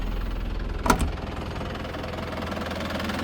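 An Isuzu TFR pickup engine idles steadily with a low, even rumble and faint knocking rhythm; a brief click occurs near the start, no voices.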